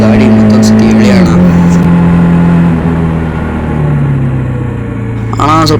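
A 2024 Bajaj Dominar 400 motorcycle pulls hard with a loud, close engine note that climbs and drops through gear shifts, then revs again at the end, with wind rush throughout.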